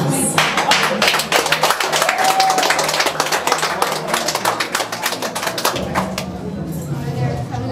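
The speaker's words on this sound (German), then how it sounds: "freuen uns über einen kräftigen Applaus" Passengers applaud aboard the City Skyliner observation tower ride at night during Maschseefest 2013 in Hanover, with a burst of dense, close clapping that thins out and fades, while people chat underneath.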